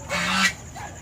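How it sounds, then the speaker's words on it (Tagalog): Pet turkeys in their pen let out a brief honking call followed by a softer second note, close and clear. "Ayan na po ang aking mga alagang pabo."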